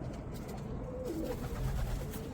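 A pigeon coos softly amid steady background noise, low murmuring calls repeating over a couple of seconds at a moderate distance.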